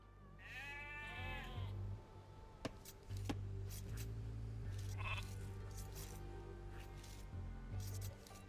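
Sheep in the Age of Empires II: Definitive Edition game bleat several times in short wavering calls, with game clicks and sharp ticks and a low droning background underneath.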